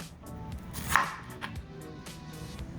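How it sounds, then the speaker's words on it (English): Knife slicing through a juicy pineapple, with a few soft cuts and wet crunches close up, spaced irregularly over low background noise. "Cut some slices off here."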